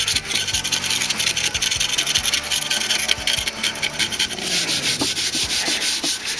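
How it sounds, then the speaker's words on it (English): Razor blade scraping an old acetone-soaked gasket off a Big Green Egg ceramic grill, rapid rhythmic rasping strokes, close and steady, with a few sharper scrapes near the end. "Let the acetone soak in and then kind of break it up with the blade."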